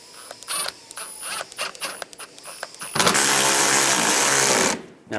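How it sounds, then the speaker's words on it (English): Screws being reinstalled on the side of a radiator in a 2005-10 Volkswagen Jetta, with scattered short tool clicks and scrapes followed by a loud, steady whirring burst from a power driver lasting almost two seconds, close up. "Now reinstall these screws on the side."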